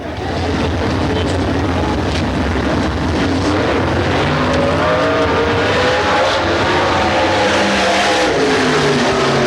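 Race car at speed on a qualifying run at the Pennsylvania Motor Speedway in 1997, a continuous loud engine roar with shifting pitch, heavy wind and crowd-like wash throughout, no talk.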